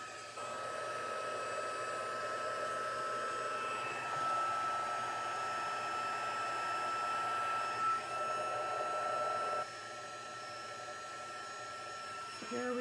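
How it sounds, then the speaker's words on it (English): A steady, loud whirring hot-air heat tool hums continuously for several seconds up close with slight shifts in pitch while melting clear embossing powder. "we're going to heat set that with the heat tool."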